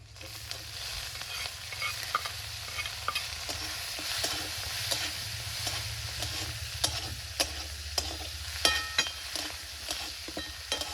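Shrimp sizzle steadily in a pan with black cumin, a continuous close frying hiss broken by repeated clinks and scrapes of stirring.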